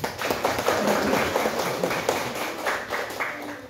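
An audience at a Catholic parish gathering claps together, a moderate, continuous patter of hands with a faint rhythmic pulse running through it.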